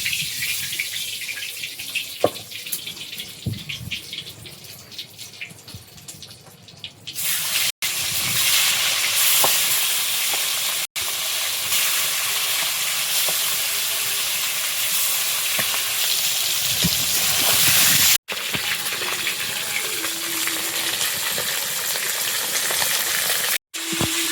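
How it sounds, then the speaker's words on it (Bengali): Magur catfish fry in hot oil in a wok, producing a loud, steady sizzle that starts after a quieter stretch and continues with brief breaks; no one speaks. "কড়াইতে তেল দিয়ে দিলাম, এবার মাছগুলো ভেজে নেব।"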